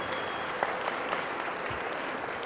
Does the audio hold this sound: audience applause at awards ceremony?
yes